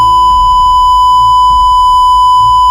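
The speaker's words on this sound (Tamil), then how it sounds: "எவ்வளவு கொச்சையா பேசிருக்கு, அதை பீப் பண்ணி போட்டிருக்கேன்" A loud, continuous censor beep, a single pure steady tone, runs unbroken for nearly three seconds, covering offensive speech during a Tamil sermon, with faint low sounds beneath.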